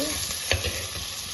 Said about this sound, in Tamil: கடுகு வெந்தயம் கருவேப்பிலை காஞ்ச மிளகா சின்ன வெங்காயம் எல்லாம் பெருங்காயம் எல்லாம் சேர்ந்து நல்லா வதங்கிடுச்சு